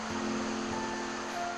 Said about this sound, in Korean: 물소리, 바람소리, 벗을 삼아 계곡 안쪽으로 들어섭니다.